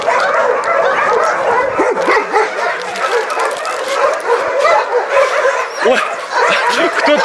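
A dog at an animal shelter barks repeatedly in short, sharp yaps with some whimpering, close by, with a person talking in Russian in the background.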